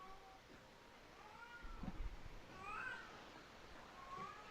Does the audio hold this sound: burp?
no